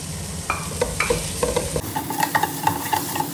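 Chopped tomatoes go into hot masala in a pan and sizzle, with a spoon scraping and stirring through them in a steady, close rhythm; the pieces hit the pan with a brief burst of louder frying, and there is no talk.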